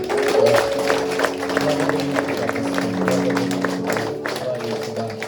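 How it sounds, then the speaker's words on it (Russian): A church congregation applauds together, a dense steady clapping that runs the full length of the clip, mixed with sustained instrumental music from a worship band underneath. "Давайте подарим аплодисменты Богу"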